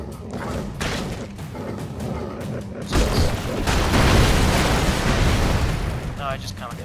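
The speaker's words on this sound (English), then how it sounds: "And then the red one will explode it now." Explosions in the video game Broforce burst out as a loud, sustained rumble. Dense booming fills the second half, preceded by several sharper thuds.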